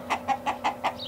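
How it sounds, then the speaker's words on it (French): Hens in a cartoon fairy-tale scene cluck in five quick, evenly spaced bursts, close and clear with nothing else over them. "Soudain, 100 poules jaillirent du pot, faisant claquer leurs ailes dans les airs."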